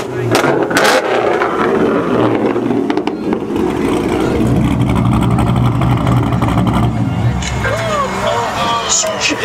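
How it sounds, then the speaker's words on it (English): A car's engine revs loudly at a busy car meet, its roar swelling and dropping over a steady crowd din and nearby chatter from people talking close by. "Hey, you wanna rev it a little bit?"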